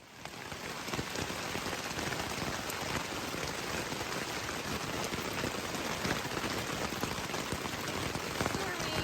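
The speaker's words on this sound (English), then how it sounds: "First time I've had any real rain since I got into the Whites." Steady rain patters on a surface in the White Mountains of New Hampshire along the Appalachian Trail, a dense even hiss with scattered drop taps, heard close and without a break.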